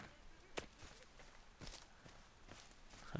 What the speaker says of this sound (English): I can hear footsteps everywhere.